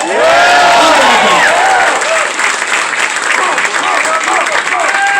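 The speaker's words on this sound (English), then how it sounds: "Give him a round of applause" A large political rally crowd breaks into loud applause mixed with cheering and whooping shouts, a close, dense roar that stays strong for the whole five seconds.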